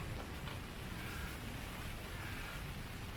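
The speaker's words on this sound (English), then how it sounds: "It's just started raining again." Steady rain drums on a hot tent during a camping trip in gale-force winds, a dense, even hiss with no breaks and no voices.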